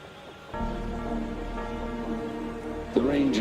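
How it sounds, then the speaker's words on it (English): Sudden rain begins with a steady broadband hiss that stays even and close throughout, and a voice briefly speaks over it near the end. "The rain just happened out of nowhere."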